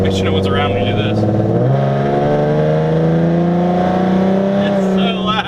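A tuned, modified 2014 Ford Mustang V6 revs hard and loud, its engine note climbing and holding a sustained roar before backing off with a few pops at the end.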